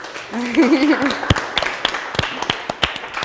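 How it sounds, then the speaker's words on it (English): A short round of audience applause for event sponsors at a first-time homebuyer seminar. Scattered claps ring out over a voice at the start and keep going, sparse and uneven, for a few seconds. "if we could do one more round of applause for the sponsors"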